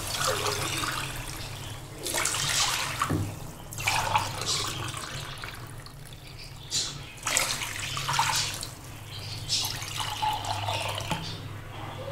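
Water splashes into a cooking pot of spiced chicken pilau base in several bursts, gushing and pouring with short pauses between, close by.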